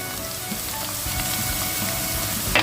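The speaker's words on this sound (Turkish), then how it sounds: "Şimdi domates salçamı ekliyorum. Onu da bir kavuracağım." Tomato paste and chili flakes fry in a pan, giving a steady close crackling sizzle like light rain, unbroken and fairly loud.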